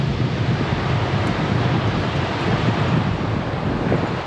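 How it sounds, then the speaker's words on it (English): Strong, cold wind buffets the microphone on the New South Wales coast near a beach, a steady roaring rush with surf-like noise throughout and no voices. "Oh, windy and cold."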